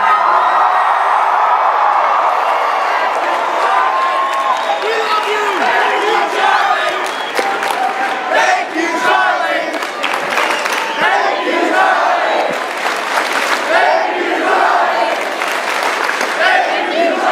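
A large crowd at the America Fest political event cheers, whoops and applauds loudly and continuously, a dense, roaring wash of voices and clapping with no break.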